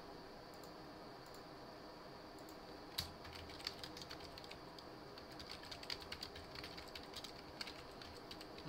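Quiet typing on a computer keyboard, light irregular key clicks in short bursts, heard close and faint with no voice.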